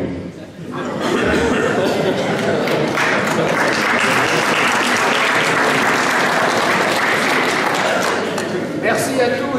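A hall full of people at a municipal New Year's greetings event breaks into dense, steady applause lasting several seconds, with chatter and chuckles mixed in.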